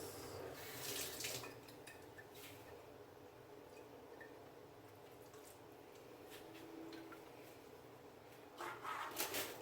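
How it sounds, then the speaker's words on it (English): Water splashes and trickles into a cooking pot of Jamaican-style brown stew oxtail, a soft steady pour with brief louder gushes at the start and end, fairly quiet overall. "I'm gonna go ahead and add a little water to this."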